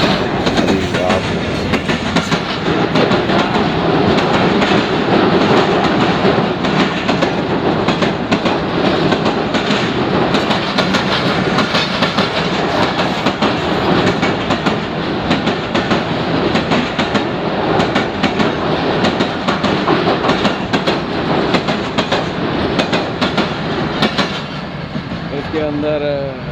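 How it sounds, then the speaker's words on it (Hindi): Millat Express passenger train led by locomotive 8211 rolls past close by, a loud continuous rumble with steady clickety-clack of wheels over rail joints, sustained throughout with a brief squeal near the end. "ये है फरवरी 2024 की मिल्लत एक्सप्रेस और इसको 8211 लीड कर रहा है"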